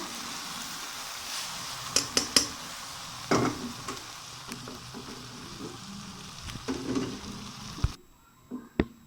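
Maash dal hitting hot oil with cumin, giving a steady crackling sizzle with sharp spits and pops and occasional stirring clinks, then cutting off abruptly near the end.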